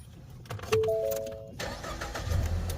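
A car engine starting: a brief starter crank, a tonal chime, then the engine catching and settling into a steady idle, close and clear.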